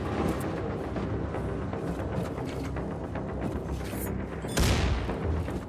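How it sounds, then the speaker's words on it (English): A napalm gun in The New Colossus fires in a rough, continuous roar of bursts and booms, with a heavier blast near the end, loud and close with no speech over it. "So basically, it's a napalm gun."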